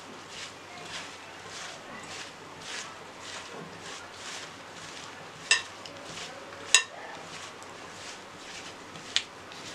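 Okra coated with turmeric, red chili powder and spices being stirred in a pan: soft, faint scraping and stirring with a few sharp clinks of a spoon against metal, under a gentle sizzle.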